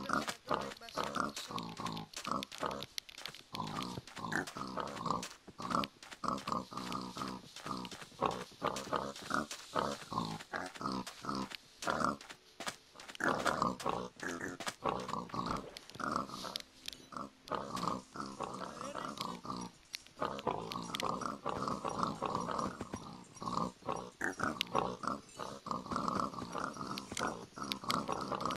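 Zombie pigmen in Minecraft grunt and snort in a continuous, fairly quiet stream of overlapping calls that keeps going for nearly half a minute.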